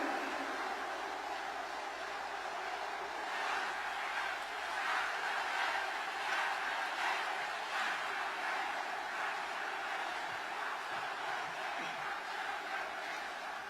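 A large outdoor crowd at a Grand National Party presidential campaign rally in Busan roars and applauds in a continuous, dense wash, with cheering blended in at steady loudness throughout.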